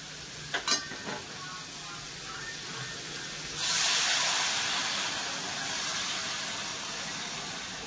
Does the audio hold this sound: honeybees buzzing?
no